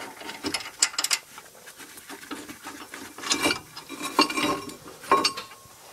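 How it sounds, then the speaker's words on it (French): Metallic clicks and clanks of an 18 mm socket ratchet working on the front brake caliper bracket bolts of a Renault Mégane, in bursts of close, sharp ratcheting and tool contact with brief pauses. "Ici vous défaites votre support, donc c'est une douille de 18 en haut et en bas"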